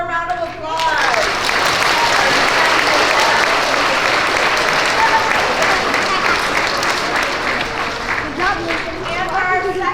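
A school assembly audience of young children bursts into sustained, dense applause after a few chattering voices, holding loud and steady throughout with scattered shouts and voices threaded through.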